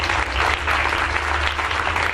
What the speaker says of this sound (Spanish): y si le doy un aplauso al Señor